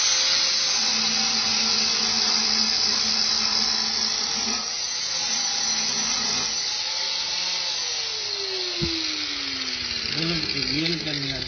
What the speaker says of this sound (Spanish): Ahora vamos a cambiar a un disco flap, que se llama, para darle una terminación más pulida.